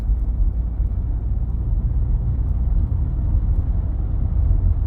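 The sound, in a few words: Toyota Camry shuddering from failing transmission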